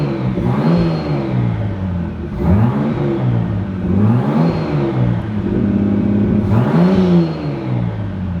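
A Nissan Skyline R31's engine revs hard again and again in rising, falling sweeps, its loud, raspy exhaust droning at close range with no one talking.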